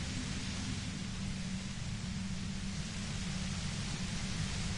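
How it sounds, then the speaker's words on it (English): Steady hiss of static white noise in the game Disco Elysium, an unbroken, even wash of broadband noise with a low hum beneath, constant in level throughout and with no voices. "You hear through the white noise. It's especially bad suddenly."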